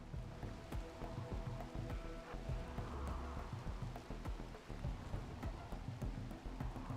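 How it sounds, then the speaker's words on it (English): Steady rain falls in a RimWorld game, a dense continuous patter with scattered sharp drop ticks and a low rumble beneath, holding at an even level throughout with no talking. "It is raining right now."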